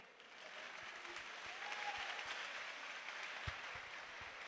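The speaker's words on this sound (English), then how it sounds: "Please, let's give another round of applause." Sustained audience applause at a school quiz competition, a dense steady wash of clapping from a large crowd filling the whole stretch, fairly distant, with no talk over it.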